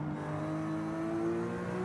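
A car in Forza Horizon 5 engine braking in a low gear at a track day, a steady droning engine hum with clear tonal harmonics, held fairly constant and close, no talking.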